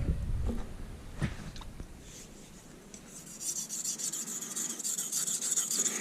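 A knife edge scrapes back and forth across a 1000 grit sharpening stone in close, repeated gritty strokes, with a few sharper clicks early and a brighter grinding rasp later.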